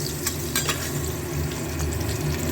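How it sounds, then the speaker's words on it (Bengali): Potatoes seasoned with salt and turmeric fry in hot oil for mutton curry, giving a steady, close sizzle with a few sharp crackles and spatters near the start. "আলুগুলো একটু লাল লাল করে ভেজে নেব।"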